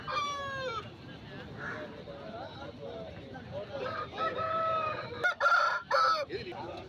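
A Kakinemili rooster, about 1.5 years old and 4 kg, crows loudly at an open-air market, one long crow opening the sound and then clucks and calls amid murmuring background voices and crowd noise.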